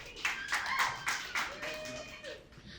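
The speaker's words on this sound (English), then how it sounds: "Clap it up if you guys are from the neighborhood" Audience at a stand-up comedy show held in a church basement clapping in a few scattered bursts of handclaps, while a voice talks over them.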